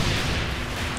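A dense, continuous roar of booming blasts fills the second, loud and rumbling like heavy explosions in the video game Saints Row 4.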